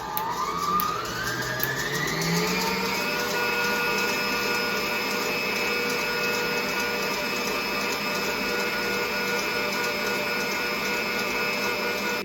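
Fried pickle batter whipped until frothy in a blender on medium speed: a motor whine climbs in pitch over the first few seconds, then holds as a loud, steady drone with no talking.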